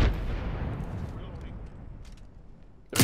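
A grenade detonates in the battle royale shooter Apex Legends with a loud, booming blast that rumbles and decays over a few seconds, followed by another sharp bang at the end.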